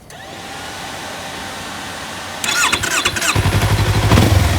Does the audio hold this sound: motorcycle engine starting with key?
yes